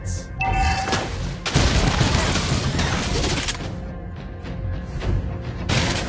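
Rapid gunfire from the hero Granger in the mobile game Mobile Legends: Bang Bang, dense bursts of shots and booms overlapping with game effects, loud and continuous over several seconds.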